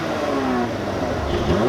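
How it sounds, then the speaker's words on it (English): A 2017 Mercedes-AMG E43's 3-liter bi-turbo V6 hums and revs through the AMG Sport exhaust with a rising, throaty note, steady and fairly loud, climbing in pitch toward the end. "let's listen to how the engine sounds through the AMG Sport exhaust system"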